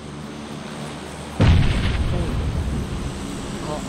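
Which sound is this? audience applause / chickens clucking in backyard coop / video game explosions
video game explosions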